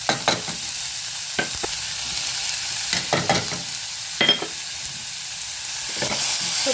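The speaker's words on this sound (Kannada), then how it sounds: "ಬೆಳ್ಳುಳ್ಳಿನ ಈಗ ಚೆನ್ನಾಗಿ ಫ್ರೈ ಮಾಡ್ಕೊಳ್ಳೋಣ" Garlic, carrots and mixed vegetables sizzle in a hot pan for soup, with loud scraping stirs and clanks of a spatula breaking through a constant hiss of frying, close up and without voices.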